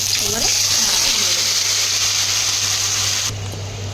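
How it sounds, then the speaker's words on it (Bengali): Black cumin (nigella seeds) tempering in hot mustard oil gives a loud, steady, close sizzle with a faint voice underneath. The sizzle cuts off sharply near the end. "সর্ষের তেলে কালো জিরাটা ফোড়ন দিয়েছি"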